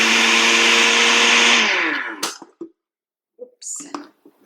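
A blender running while making Dole Whip, a loud steady whir that winds down and stops after about two seconds, followed by scraping and a voice talking.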